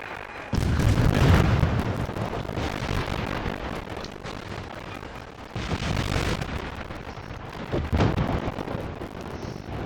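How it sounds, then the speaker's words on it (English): Naval gunfire in a warship video game: the battleship Jean-Bart's shells land with heavy booming explosions, a big blast early followed by further rumbling impacts, loud and deep with no talk over them. "Oh, he's shooting at me. Oh, Jean-Bart."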